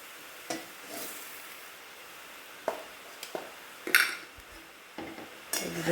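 A spoon stirs dal in a pot, giving sparse metallic clinks and scrapes against the pot at irregular moments over a quiet background.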